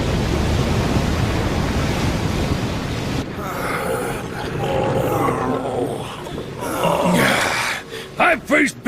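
An animated sailing ship moves through ocean waves. A loud, dense rushing roar of water fills the opening seconds, then gives way to shouted voices and dramatic effects.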